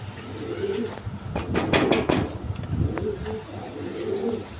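Colored Gorra pigeons in a large cage coo in low, throaty bursts, close and fairly loud, with a brief scuffle of wings or movement midway and someone talking over them.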